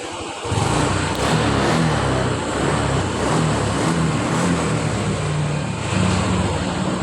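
A Honda Click 125i scooter engine with too low an idle is revved during idle adjustment, a loud continuous close engine drone with wavering pitch, no talk.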